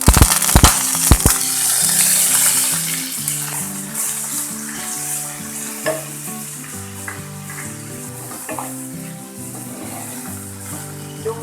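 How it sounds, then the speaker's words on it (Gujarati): Onions frying in ghee with whole cumin, a loud close crackling sizzle that opens with a few sharp pops and then settles into a steady hiss with occasional stirring, no speech. "ડુંગળીને આપણે થોડી વાર માટે શેકી લઈએ"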